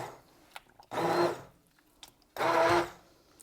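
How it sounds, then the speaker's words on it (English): Two short bursts of a whirring immersion blender motor pulsing potato soup, each about half a second, switched on and off with quiet pauses between. "So put the immersion blender, as it says immersion, you're gonna stick it all the way down in the liquid."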